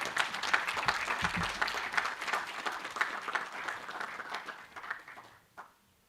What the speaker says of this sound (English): Can we put a hand together?